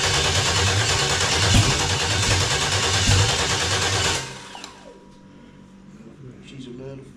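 An engine on a test stand roars loudly and steadily for about four seconds, then cuts out abruptly, leaving quieter mechanical ticking and faint room noise, with people talking nearby.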